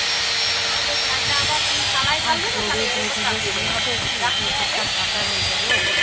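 Fish egg fritters (pakora) sizzle in hot oil, a steady close hiss with crackling pops running throughout, while a voice talks over the frying.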